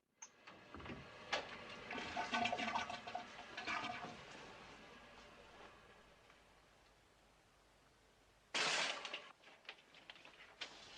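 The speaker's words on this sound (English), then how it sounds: "just got done in the bathroom, flushing the toilet" Toilet flushing in a scene from the film Psycho: a broadband watery rush swells and falls over several seconds, then a second loud burst of gushing water follows near the end, with no voices.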